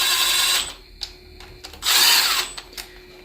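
An impact wrench snugs down valve body bolts on a 4L60E automatic transmission, giving two short bursts of whirring and rattling close by, separated by a quieter gap with small clicks.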